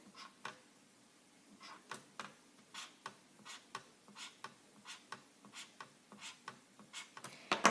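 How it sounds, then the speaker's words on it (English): Pen drawing seven short lines on paper, about a dozen quick scratchy strokes in a steady rhythm, faint and close, with no talking. "So I'm going to draw 7 lines representing 7 rectangles."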